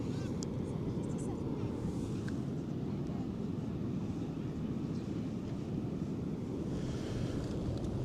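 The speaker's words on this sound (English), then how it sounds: "The waves are fantastic for surfing on." Surf breaking continuously on the beach at Croyde Bay, North Devon, a steady broadband roar of waves mixed with gusty wind buffeting the microphone, with no voices in the clip.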